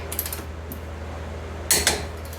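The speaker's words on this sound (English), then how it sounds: "Those also get torqued to 148 pound-feet." A torque wrench tightens the hub bolts on a 2018 Ford F-150. Quiet metallic creaks and ratcheting mechanism noises lead to two sharp clicks close together near the end, over a low steady hum.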